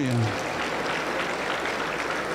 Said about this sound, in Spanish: Aplausos para el Señor Jesús